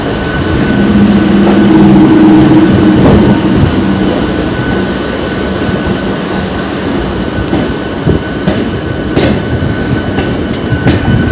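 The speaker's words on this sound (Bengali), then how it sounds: "এটি একটি নিস্তব্ধ লোকাল। এই ট্রেনে হাতে গোনা মাত্র 10 থেকে 15 জনই থাকে।" Inside a moving Howrah local train bound for Belur Math, a loud, steady rumble of wheels and carriage fills the space, with rhythmic rail clacks and occasional sharp metallic squeals.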